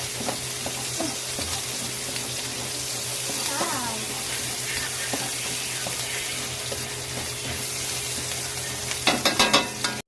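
Unpeeled garlic cloves sautéing in a pan for adobo, a continuous bright sizzle with scattered stirring clinks and a faint voice underneath, ending in a few sharp pan knocks.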